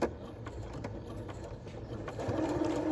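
A sewing machine sews a darning stitch, running forward and then backward in reverse, with a steady close mechanical whirr and rapid needle clatter that grows slightly louder toward the end.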